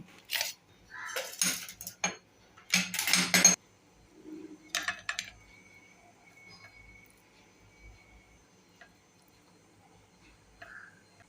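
Vermicelli upma is served onto a plate: a few bursts of clinking utensil and plate clatter come early, then it settles into near silence with faint scattered taps.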